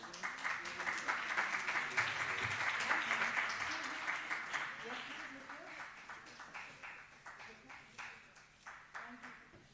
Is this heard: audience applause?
yes